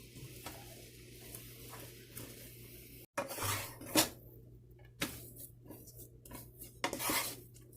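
A spoon stirs flour (maida) into melted butter in a pan for churros dough, giving quiet scraping and clinking strokes with a few louder knocks against the pan, over a low background hum.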